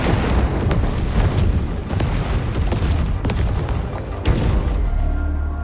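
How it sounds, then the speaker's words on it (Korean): Explosions go off around a ruined nuclear power plant: a string of heavy booms and bursts over a constant deep rumble, loud and close, with no speech. "주변에 폭발을 일으키는 그들."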